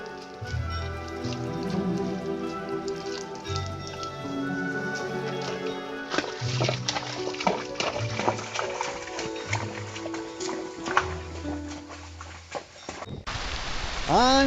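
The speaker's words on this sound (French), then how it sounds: "La pluie enfin!" Steady rain patters and splashes across the whole stretch with music playing over it, getting louder and busier near the end.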